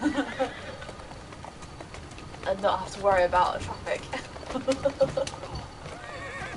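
Horse in the Assassin's Creed Syndicate video game, clip-clop hooves and a neigh rising in the middle, game sounds around it, with someone talking over parts of it.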